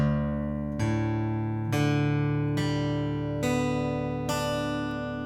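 Six guitar strums in drop D tuning ring out one after another, open strings with the low E tuned down to D, each chord sustaining into the next with a bright, open, droning tone, played alone.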